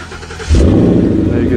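A 2014 Ford Mustang GT with a 5.0 V8 and aftermarket dual exhaust fires up by remote start, a sudden loud, close burst of engine roar after a brief quiet moment.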